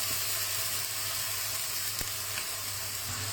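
Hua diao wine added to fish browning in a hot pan, producing a strong, steady sizzle and frying hiss, fairly close and continuous, with one brief sharp crackle partway through and no talking.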